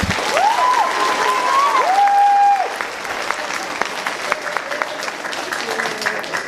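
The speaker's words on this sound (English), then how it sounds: "let's give her a big round of applause" Loud applause from an audience at a 6th grade promotion awards ceremony, steady clapping for a teacher that fills the first few seconds, then continues a little softer with a brief tone rising over it.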